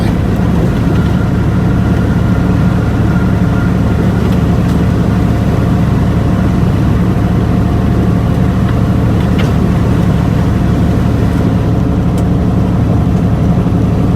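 A semi truck descending a steep grade, its engine giving a steady, loud low drone with continuous road rumble throughout and no break in the sound.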